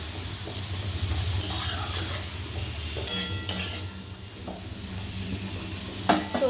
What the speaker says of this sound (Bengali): সজনে ফুলটা কিন্তু বেশ সুন্দরভাবে 5 থেকে 7 মিনিট আলুর সাথেও আমি ভেজে নিয়েছি